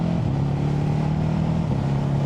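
A 2025 Ducati Hypermotard 950 RVE motorcycle engine runs steadily at fairly high revs, a loud, continuous close-up drone with a slight dip in pitch partway through, as if shifting gear.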